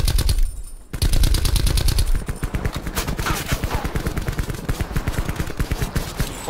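Gunfire in the video game Call of Duty Black Ops 4: rapid automatic bursts of loud shots, a brief pause near the start, then sustained fast rhythmic firing throughout.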